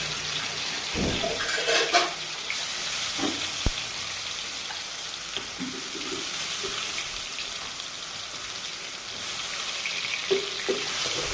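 Onion and garlic paste frying in a pan, heard as a steady, fairly loud sizzle with a few thumps and stirring scrapes, close and without talk.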